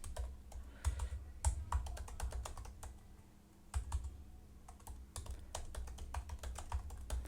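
Code typed on a computer keyboard while building a WordPress theme in PHP: close, rapid clicky keystrokes in uneven bursts, with a short lull midway before the typing resumes.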